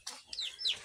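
Farm chickens cluck in short bursts, close and moderately loud, with a few sharper calls rising over the clucking.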